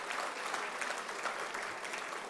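Audience at a ghazal poetry recital breaks into steady, dense clapping that holds at an even level throughout, with no voices over it.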